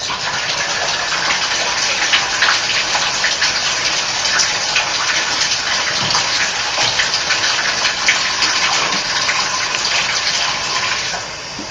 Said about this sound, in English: just flush a bunch of water up through the pipe to the shower head